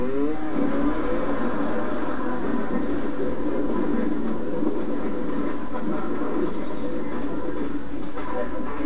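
A 46-horsepower all-wheel-drive vehicle drives along with a steady, loud engine drone and rumble that holds constant throughout, without letting up.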